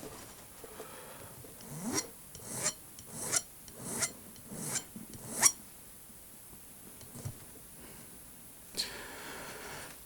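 A new violin nut is filed and shaped by hand, producing a series of short, quiet rasping strokes in a fairly steady rhythm that then thin out to a few scattered scrapes.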